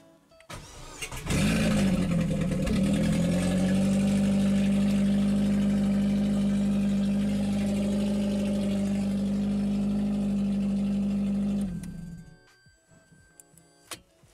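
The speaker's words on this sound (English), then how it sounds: "For a car to start first time, after you have taken the old engine out, put a new one in" A Vauxhall Corsa 1.8 with a newly fitted replacement engine cranks and fires after about a second, then settles into a steady, loud idle for roughly ten seconds before being shut off, with no talking.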